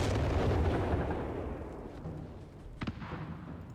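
Light artillery from a Vespa in Company of Heroes 3 rumbles as a broad, heavy booming roll that fades over a few seconds, then a sharp nearby blast rises near the end, with no voices over it.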